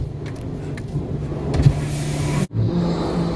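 A car rolls into an automatic car wash machine in Lala Musa, Pakistan, producing a steady low mechanical hum with a sharp brief dropout midway before the drone resumes; no talking.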